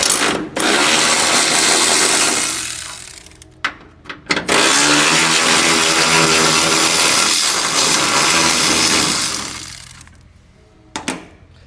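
Loud, sustained whirring of a 1/2-inch electric ratchet on an extension, loosening bolts while removing a small-block Chevy engine, running in two long bursts with a brief stop between them, then a couple of short blips.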